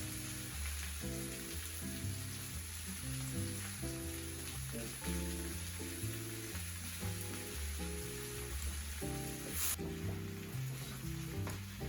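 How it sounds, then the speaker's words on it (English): Potatoes, peppers and onions frying in a pan give a steady, close sizzle that runs throughout beneath a background music track. "While my potatoes, peppers and onions are cooking"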